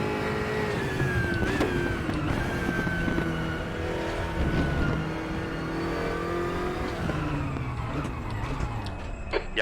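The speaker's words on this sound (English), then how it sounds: "Car's a little bit loud." Race car engine in a racing video game, loud and continuous at close range, with rising and falling revs and gear changes throughout, and a brief skid or scrape partway through.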